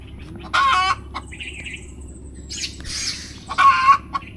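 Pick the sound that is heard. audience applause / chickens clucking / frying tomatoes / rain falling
chickens clucking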